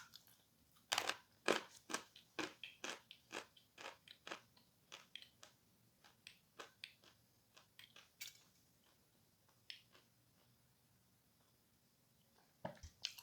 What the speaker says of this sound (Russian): этот сорт откусывается максимально легко.